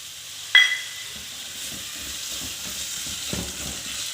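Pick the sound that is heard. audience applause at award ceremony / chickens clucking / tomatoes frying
tomatoes frying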